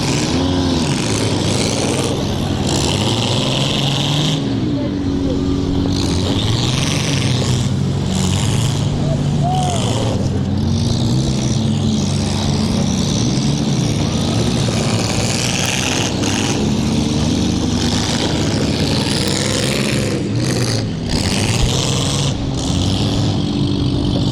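Demolition derby cars rumble and rev in a continuous loud engine roar, one car driving into the side of another, while an announcer talks over the din throughout.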